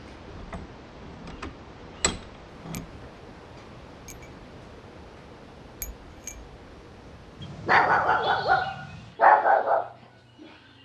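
A dog barks in repeated bursts, loud and fairly close, with faint ticking and scattered clicks in a quiet workshop setting beforehand.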